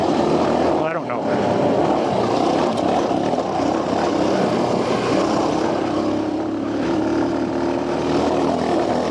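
A Honda XR250R trail motorcycle is ridden at about 40 miles an hour on a test ride, its engine a loud, continuous droning roar mixed with rushing wind, steady and close throughout.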